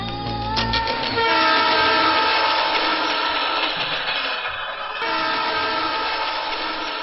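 A train at a railway station blows a loud, sustained horn that opens the sound and then carries on as a steady whistling drone over rolling rail noise, close and without speech.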